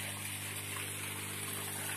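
Water flows steadily through an aquaponics nutrient film technique (NFT) system on a fish farm, giving a soft continuous trickle and gush with a low pump hum, quiet and unbroken.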